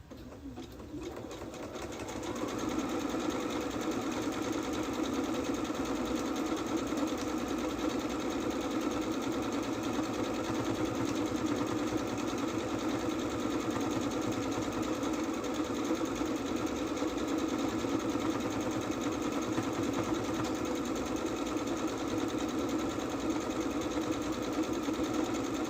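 Sewing machine running continuously after a short start, a steady, even hum and rapid needle chatter that holds at moderate level for over twenty seconds with no talking.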